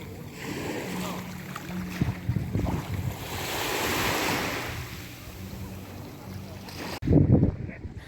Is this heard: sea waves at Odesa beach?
yes